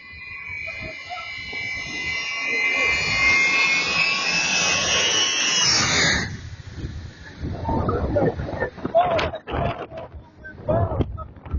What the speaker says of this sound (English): This military plane flying dangerously low.